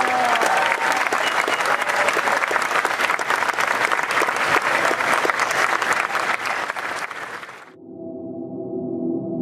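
Sustained audience applause, dense and steady from a large crowd for nearly eight seconds, then cutting off abruptly into quiet tonal background sound.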